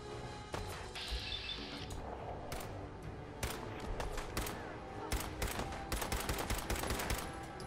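Pipe pistol gunfire in the Fallout 4 video game, a string of sharp shots with irregular spacing that grows denser toward the end, mixed with other game sounds.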